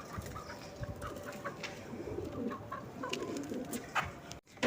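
Chickens cluck and coo in a coop in a steady jumble over a noisy outdoor background, with occasional sharper calls; no one speaks.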